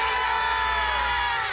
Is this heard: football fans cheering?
yes